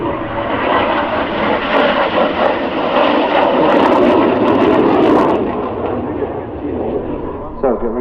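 A Hongdu L-15E jet trainer performing an airshow flying display roars loudly and continuously, a broad rushing engine noise that swells as it passes.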